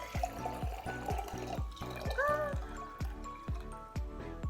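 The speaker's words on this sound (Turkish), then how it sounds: "şöyle cezvemizin içerisine suyumuzu boşaltalım" Water is poured into a Turkish coffee pot (cezve), a steady liquid pour running under a rhythmic background beat throughout.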